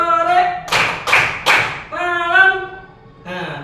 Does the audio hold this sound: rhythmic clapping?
yes